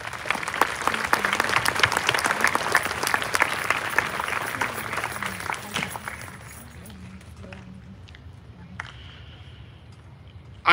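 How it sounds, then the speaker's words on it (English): Applause from a graduation audience honouring teachers fills the first six seconds as dense, steady clapping, then thins into scattered claps and quiet room noise. "Let's give our teachers a big round of applause."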